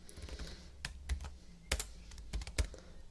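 Simple HTML being typed into Notepad on a computer keyboard: quiet, irregular clicking keystrokes in short bursts with a few sharper, louder key hits, close and alone with no talk.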